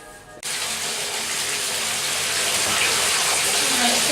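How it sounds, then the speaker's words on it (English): Water gushes from a tap into a plugged bathtub, starting abruptly after a brief pause and then running as a steady, loud rushing splash that builds slightly in fullness. "so now I'm going to fill the bath"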